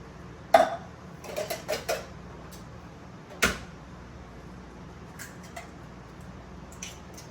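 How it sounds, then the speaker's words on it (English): Three eggs being cracked into a bowl of brown sugar for a pumpkin dump cake, a few sharp taps and clinks against the bowl, close and sparse with quiet pauses between. "let's crack these eggs"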